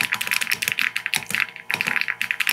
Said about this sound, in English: The typing sound is amazing